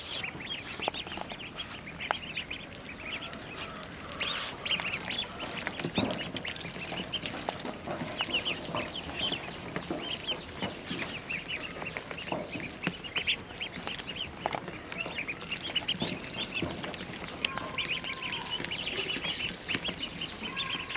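Many Khaki Campbell ducklings, 17 days old, quack and peep continuously, a busy overlapping chorus of high chirps at close range with no voices.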